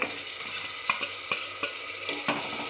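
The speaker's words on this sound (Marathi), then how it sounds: "टोमॅटो ही हाय फ्लेमवरती मस्त परतून घ्यायचं आहे" Tomatoes sautéing in a pan over high flame for egg biryani give a loud, continuous sizzle, punctuated by several sharp spoon scrapes as they are stirred, close by and without speech.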